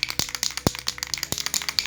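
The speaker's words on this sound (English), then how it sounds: "Shake it for at least a minute so the paint is better." A spray paint can for touching up car scratches is shaken rapidly, giving dense rattling clicks and knocks in a quick irregular rhythm, close and alone.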